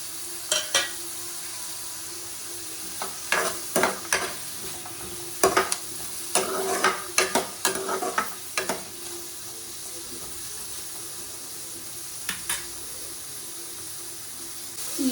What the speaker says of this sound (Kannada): ಇದಕ್ಕೆ ಇವಾಗ ಗೋಡಂಬಿಗಳನ್ನ ಹಾಕೊಳ್ತಾ ಇದ್ದೀನಿ.